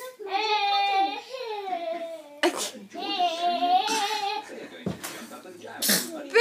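A young girl with a cough sneezes several times close by. Short, sharp bursts are mixed in with her whiny, sing-song vocal sounds.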